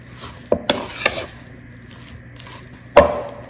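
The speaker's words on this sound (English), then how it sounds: "Let's give it a quick mix to see." A seasoned flour mixture for chicken tenders being stirred in a bowl, heard as a few separate scraping, knocking strokes near the start and one sharp knock near the end, with quiet pauses between.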